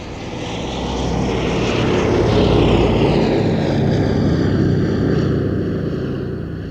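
A triple-tailed propeller airliner's powerful engines drone loudly as it passes overhead, the throbbing hum swelling to a peak midway and then slowly fading off.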